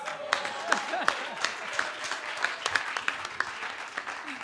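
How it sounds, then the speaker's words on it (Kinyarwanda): Audience applause at a comedic performance, a steady crowd of hands clapping with sharp individual claps standing out throughout, fairly close and without speech. "amashyi menshi cyane kuri Rusine"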